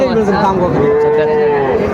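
A calf or young cow moos loudly and close at a cattle market in Raniganj, one long sustained low call filling the moment with faint crowd chatter behind.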